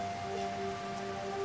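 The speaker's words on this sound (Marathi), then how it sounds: "मस्त पाऊस पडतोय ना." Steady rain falls throughout, a dense even patter on surfaces, moderately close and unbroken, with a faint background hum and no voices.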